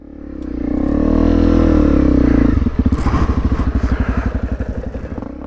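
A 300cc two-stroke enduro motorcycle engine revs loudly and holds a high whine, then drops into a rapid, sputtering idle with rhythmic pops, close by.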